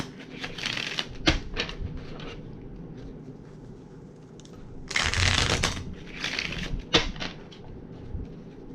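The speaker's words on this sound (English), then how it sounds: "Y'all see how hard I be shuffling these decks." Tarot card decks shuffled hard by hand, in quick bursts of crisp riffling and slapping with pauses between, close and fairly loud.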